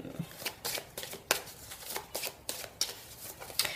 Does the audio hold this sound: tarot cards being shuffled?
yes